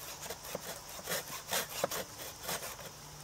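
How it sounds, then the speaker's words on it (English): Handsaw cutting through wood at a youth field day, with rhythmic back-and-forth strokes rasping at moderate volume, about five or six strokes, nearby and without talk. "They're learning to use a handsaw"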